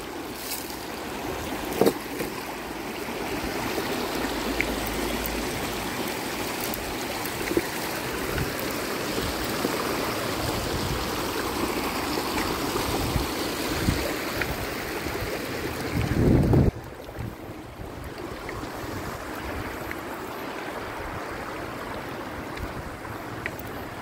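The Batang-Batang river in Narra, Palawan, flows in steady rushing water, broad and close, with a brief louder splash or bump near the end and no talking.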